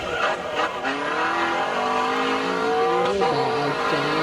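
A race car engine in the mobile racing game AutoGrid revs loudly and steadily, with rising and falling pitch and brief tire squeals, heard alone with no talk.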